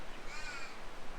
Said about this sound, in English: So we've still got these damn crows here, just waiting for me to leave so they can do their damage.